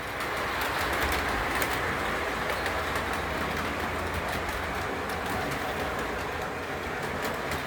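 A model train rumbles steadily along its track with continuous wheel clatter and faint clicking, plus occasional bird coos in the background.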